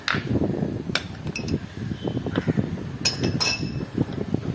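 A washer and nut are fitted onto the axle of a bicycle front wheel during servicing, giving several light metallic clinks and taps close by, irregular and sharp, with no talk.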